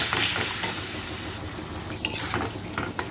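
A spoon scrapes and stirs vegetables coated in tomato sauce through a sizzling pan, with steady frying hiss and a few clinks of the utensil against the metal, close up and with no talking.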